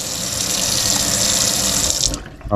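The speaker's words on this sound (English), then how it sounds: "give him a final rinse down in the sink" A freshly caught rainbow trout from an ice fishing trip is rinsed under a running kitchen sink tap, making a loud, continuous splashing rush of water that cuts off abruptly near the end.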